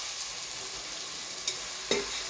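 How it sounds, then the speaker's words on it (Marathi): Onion frying in a large pot for a mixed vegetable curry, a steady sizzling hiss broken by two brief scraping stirs near the end, close and without speech. "कांदा असा छान असा लालसर होईपर्यंत भाजून घ्यायचा"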